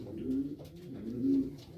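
A homing pigeon coos softly nearby in a loft, two low murmuring coos within a couple of seconds, heard alone.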